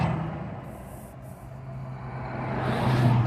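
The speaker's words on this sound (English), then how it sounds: "It's a lot of cars going by" Traffic passes along a road, a steady low rumble and hiss of a car going by, rising in volume toward the end, moderately distant and without speech.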